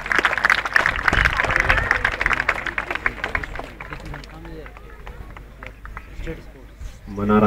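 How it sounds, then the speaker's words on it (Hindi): A crowd claps and cheers after a Mallakhamb group formation, a loud burst of applause at the start that tapers into scattered clapping and crowd noise, with voices mixed in. "एक जोरदार ताली बजाएं"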